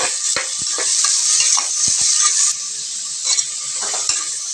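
Chopped bottle gourd and green chilies sauté in a pan with a bright, constant sizzle, while a utensil stirs and taps the pan in irregular clicks up close.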